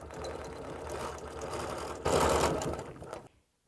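A sewing machine stitches a large teardrop quilting line across a row quilt, running steadily, then speeding up and growing louder for about a second before it stops abruptly into silence.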